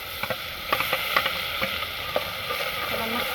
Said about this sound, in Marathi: जे आपण हे वाटण वाटलेलं आहे ते पण आपण ह्या तेलामध्ये टाकून घेऊ